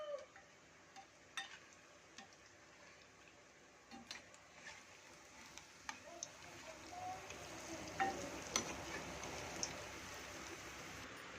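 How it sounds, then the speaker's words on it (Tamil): Medu vada frying in oil, a quiet, steady bubbling sizzle with small crackles and pops that grows slightly busier toward the end, with no talking. "இங்கே பாருங்கள் எண்ணெயில் போட்டு பொரிஞ்சிட்டு இருக்கு"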